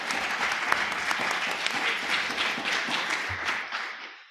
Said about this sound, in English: So please join me in a brief round of applause for our candidates.